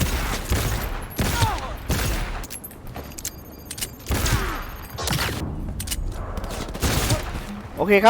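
Gunfire in the video game Cyberpunk 2077 comes as repeated loud bursts of shots. Heavy volleys recur every second or so, with brief gaps between them and no talking.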